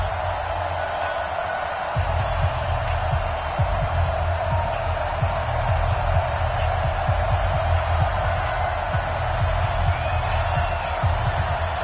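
A simulated stadium crowd in an EA Sports NFL game between the New England Patriots and Tampa Bay Buccaneers keeps up a continuous, fairly loud roar, with a commentator's voice talking over it throughout.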